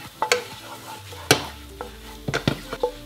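Eggs and vegetables cook in a hot pan with a soft sizzle underneath, broken by several sharp scraping and clacking stirs of a utensil against the pan.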